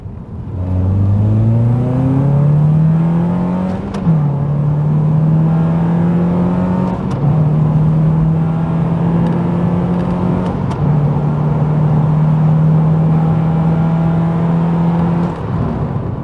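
A Honda Civic RS with a 1.5 litre engine and CVT accelerates hard, its loud engine drone rising in pitch, then holding nearly steady through several long stepped stretches with brief shifts between them, heard from inside the car without talk.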